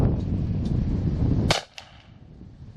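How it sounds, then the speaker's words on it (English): A Rossi Survival Rifle fires a single loud, sharp shot outdoors after steady wind-like noise, followed by a brief crack-like echo and then quieter ambience. "I'm gonna take one more shot."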